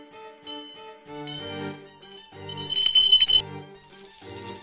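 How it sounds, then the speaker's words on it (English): A swinging bell in a radio play of A Christmas Carol rings out in a series of bright, tinkling strikes that build and shimmer toward the middle, loud and close with no voices. "He saw this bell begin to swing"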